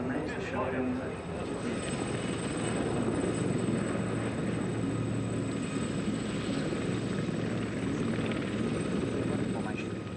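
Army Air Corps Blue Eagles display team helicopters flying nearby at an air display, a steady loud rotor and engine roar lasting throughout, with a voice talking faintly underneath.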